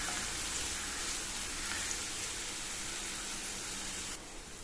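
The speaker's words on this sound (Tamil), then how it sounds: "பிரண்டை நல்லா சுருண்டு கோல்டன் ப்ரௌன் கலர் அளவுக்கு வரணுங்க, அந்த அளவுக்கு வதக்கணும்." Pirandai (adamant creeper) sautéing in a pan, a steady broadband sizzle and hiss that runs continuously throughout, dropping slightly in level near the end, with no talking.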